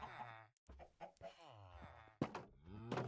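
Chickens clucking in the video game Minecraft, a few quick, close, choppy clucks with short gaps between them.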